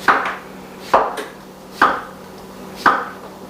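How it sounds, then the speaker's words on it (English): Knife slicing scooped summer squash into half moons on a cutting board, four crisp chops with a short pause between each, close and clear with no talk. "Once you have it scooped, you can take it and cut it in the half moon size."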